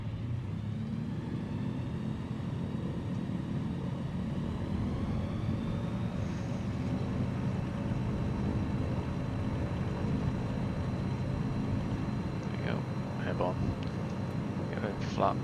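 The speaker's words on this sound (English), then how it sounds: "We'll just take off from here, I suppose." A light bush aircraft in Microsoft Flight Simulator 2020 taking off, a steady droning engine roar that holds constant throughout, with someone talking over it intermittently.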